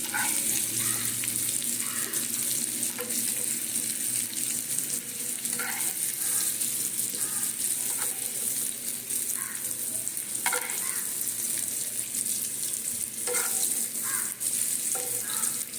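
Potatoes and yam frying in a pan, a continuous dense sizzle with intermittent scraping stirs, close and fairly loud with no voices.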